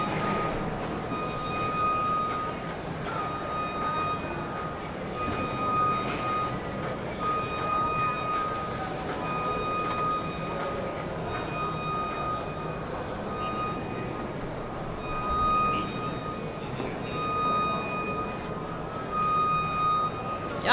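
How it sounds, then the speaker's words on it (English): An indoor anime car show hall with a steady, repeated electronic beeping over a constant crowd murmur and echoing room noise, the tones sounding at regular intervals throughout. "Y'all gonna get tired of this beeping when y'all listen to this"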